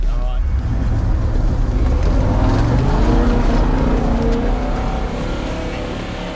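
An offroad car fitted with an aftermarket exhaust revs loudly up close at an offroad driving event, a deep, rumbling engine roar that rises and holds, with voices talking over the noise.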